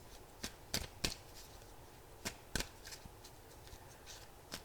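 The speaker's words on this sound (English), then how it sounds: "All these cards are having trouble shuffling today." Tarot cards being shuffled by hand give a run of soft, uneven riffles and taps, faint and close, with a low background hiss and no talking.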